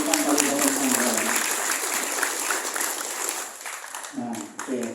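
An audience at an education office training session claps, a dense, fairly loud round of applause that fades out near the end as a voice begins speaking.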